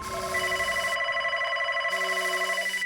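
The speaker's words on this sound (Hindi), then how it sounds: "बॉस का फोन था" A telephone rings in two steady electronic bursts, a brief pause between them, loud and close with no talking over it.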